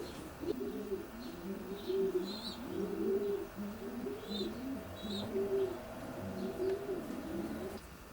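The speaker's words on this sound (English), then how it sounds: "And the pigeon's all breeding at the moment." Breeding show pigeons coo softly and rhythmically inside a wire-floored loft bird section, repeated low burbling calls layered together, with occasional faint chirps from other birds in the background.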